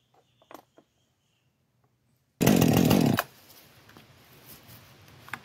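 A chainsaw with a Stihl chain rips through wood in a timed chain speed test, one loud burst of just under a second after quiet ticks, then a low idle continues.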